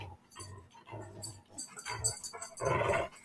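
A dog growls and grumbles in short, low bursts at close range, rising to a louder rough snarl near the end, with some playful scuffling.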